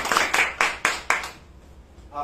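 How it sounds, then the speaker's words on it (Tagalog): A small audience claps in five or six sharp, separate bursts over about a second, then it fades into quiet room noise. "maraming palakpak muna"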